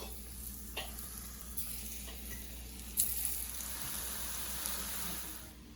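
Tofu frying in a hot pan gives a steady, even sizzle that runs throughout at moderate loudness, with a couple of faint clicks and no talking.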